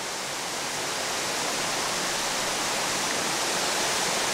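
Waterfall in the Naeyeonsan valley near Pohang, a steady dense roar of falling water, loud and continuous throughout with no voices.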